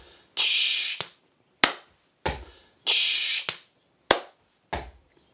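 Body percussion stamps on a floor, a rhythmic pattern of sharp, loud hits in groups with short gaps, close and alone without talk.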